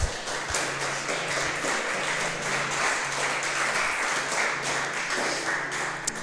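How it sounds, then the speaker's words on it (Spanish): Applause from a church congregation at a Spanish-language service, steady, moderately loud clapping sustained for several seconds with a low hum underneath. "¿Qué tal si le das un aplauso al Señor?"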